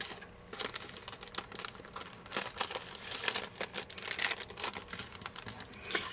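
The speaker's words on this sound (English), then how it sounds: "I take one of the Stampin' Up! Cellophane bags." A Stampin' Up! cellophane bag with a greeting card inside crinkles steadily and close up, with irregular bursts of crisp rustling and no talking.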